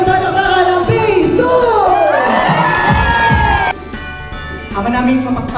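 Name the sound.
children shouting loudly at Christmas party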